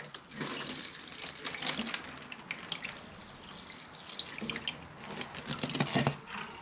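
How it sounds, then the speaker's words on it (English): Water is poured through the fresh soil of a newly repotted Japanese trident maple, making close, irregular splashing and trickling with small drips. No one speaks. "Water it through, you can see it coming through at the bottom"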